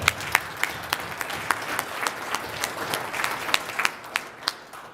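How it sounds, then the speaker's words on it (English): A room of people at a Rotary club meeting gives a warm round of applause, many hands clapping in a dense, steady patter with sharper individual claps standing out, sustained for several seconds. "Let's give him a round of applause."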